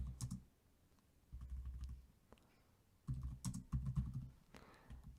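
Close computer keyboard typing while a plot title is entered in R, clustered bursts of muffled key thumps and clicks separated by brief pauses, no voice over it.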